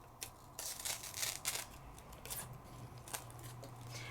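Scissors snip a small piece of paper for a handmade shaker card, a few soft, quick cuts close by over a low steady hum, with no talking.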